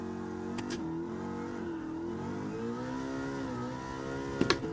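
Mustang GTD race car in GT7, its engine holding a steady droning note that rises and dips slightly as the car accelerates, with a couple of sharp clicks near the end.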